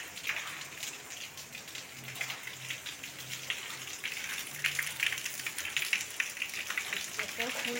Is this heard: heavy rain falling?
yes